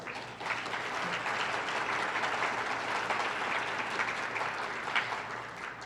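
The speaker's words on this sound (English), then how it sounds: "Please show our appreciation to everyone who has made today's event possible with a round of applause." Steady, sustained applause from a seated audience at a civic forum on Oregon's electorate, an even, moderately distant wash of clapping lasting the full stretch with no talking.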